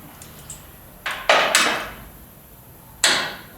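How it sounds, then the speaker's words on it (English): Several loud metallic clanks and knocks ring out as a steel mount is fitted up against a car chassis, with a couple of impacts in quick succession and one more after a pause. "I'm going to fit the mount up to the chassis, lining the front edge up,"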